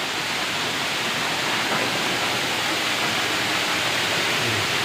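The Reje Ilang waterfall in Bener Meriah, Aceh roars as a steady, dense rush of falling water, loud and unbroken throughout.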